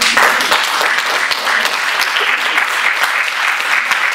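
A church congregation applauds loudly and continuously throughout, a dense wash of clapping hands with a few faint voices mixed in.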